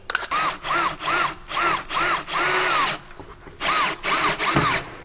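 A power drill screws an oven door onto a REMUS outdoor bread oven, heard close and loud as a string of short whirring bursts, one longer run, a brief pause, then three more quick bursts.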